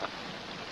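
Steady downpour of rain hissing across a broad band, a continuous wash of drops with no gaps, moderately loud and without any voices, outdoors in a wet mountain setting.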